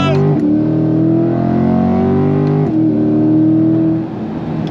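A 2026 Chevrolet C8 Corvette Z51, a mid-engine sports car, accelerates hard in second gear, its engine note rising steadily in pitch over several seconds with a brief dip around a shift or lift, loud and close with voices talking over it.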